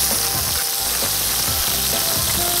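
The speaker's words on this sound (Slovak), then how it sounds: "na rozohratú panvicu pridám olivový olej, nakrájené morčacie mäso" Sliced turkey meat fries in olive oil in a hot pan, giving a loud, continuous, crackling sizzle with steady spitting and popping close by.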